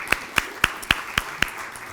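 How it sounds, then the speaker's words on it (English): Six sharp, evenly spaced hand claps in a steady slow rhythm at a women's club meeting, fairly close and clear against a quiet room, with no voices. "So nice round of applause."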